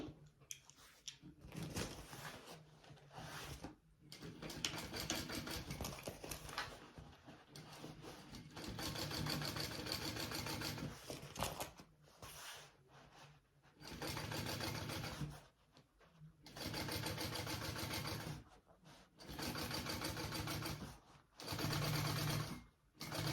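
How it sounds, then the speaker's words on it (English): A sewing machine top stitches along a bag's bottom piece with the seam allowance folded down. Close, steady runs of rapid stitching come in repeated bursts, separated by short pauses. "now we want to top stitch again along our bottom piece, seam allowance going down"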